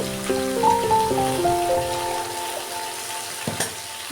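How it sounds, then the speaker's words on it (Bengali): Malabar spinach for a chorchori is mixed with salt and turmeric in a pan, making a soft sizzle with clinks and scrapes from the stirring utensil, then a couple of sharper knocks. "নুন হলুদটা সবজিটার সঙ্গে ভালো করে মিক্স করে দিয়ে"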